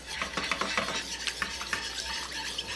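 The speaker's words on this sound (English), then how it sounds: "Give it a good mix." A dipping sauce of ketchup, rice vinegar, honey and apple juice is stirred briskly in a bowl, giving close, repeated scraping and swishing strokes in an irregular rhythm, with no voices.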